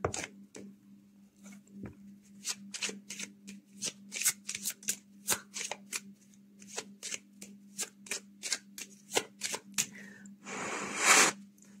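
Tarot cards are shuffled by hand close up, with a rapid string of crisp slaps and flutters in an uneven rhythm, ending in a longer riffling burst.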